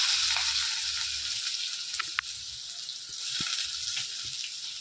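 Onions and mustard seeds fry in hot oil in a pan, giving a steady loud hiss with faint pops and a brief clack from a utensil.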